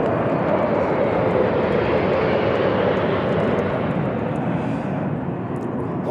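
Steady, loud roar of the South African Air Force 21 Squadron presidential jet, holding constant throughout as it passes near during a presidential inauguration ceremony.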